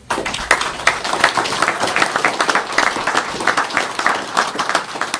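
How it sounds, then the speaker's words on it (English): An audience at a tribute to three young men honored as the Three Kings claps loudly and steadily, a dense continuous patter of many hands that holds at the same level throughout. "Please clap it up for them."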